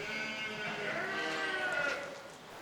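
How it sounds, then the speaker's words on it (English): A single drawn-out bleat from a sheep in a farm field carries on for a couple of seconds at moderate distance, quavering before it fades, with no talking over it. "now the sheep are at it"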